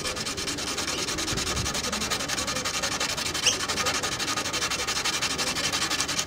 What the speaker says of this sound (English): What we don't want to do is sand through them, but we do have to take out all that varnish.